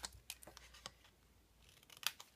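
Scissors snip in a quiet room, a handful of faint, sharp cuts spaced irregularly and heard up close, with no talking.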